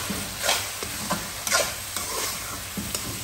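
Minced meat for qeema karahi frying over high heat with white cumin and dried coriander: a constant sizzle broken by regular scraping stirs of a spoon, close and moderately loud, with no talking.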